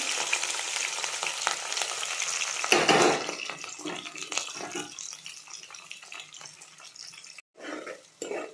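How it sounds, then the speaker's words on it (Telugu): Onions and green chillies frying in a little hot oil, a close, steady sizzle with crackle that swells briefly as they are stirred, then settles lower with scattered spatula scrapes, and no talking. "రెడ్డిష్ కలర్లో వచ్చేదాకా ఆనియన్స్ కాసేపు ఫ్రై చేయాలి"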